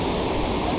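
Strong water pours over Kondeshwar waterfall in a constant, loud, hissing roar heard up close, uninterrupted and without speech.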